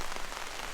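Rain patters densely on a backpacking shelter on a trail, a close, continuous crackling hiss of many drops striking the fabric, loud and uninterrupted with no voices.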